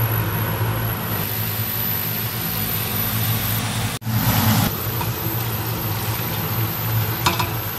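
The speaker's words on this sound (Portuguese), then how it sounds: "E eu vou fritar usando um pouco do tempero mineiro da Alessandra mesmo, que é uma pasta de sal com alho e algumas ervas" Beans fry in a pan with a seasoning paste of salt, garlic and herbs, giving a loud steady sizzle with a low hum beneath and one brief break partway through.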